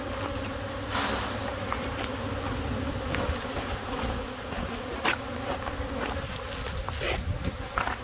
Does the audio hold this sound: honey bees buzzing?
yes